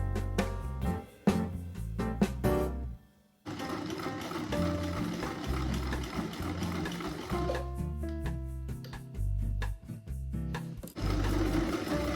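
Sewing machine stitching crochet appliques and patches onto a denim jacket, running in irregular bursts with stops and starts, close and rhythmic, with a brief pause near the middle.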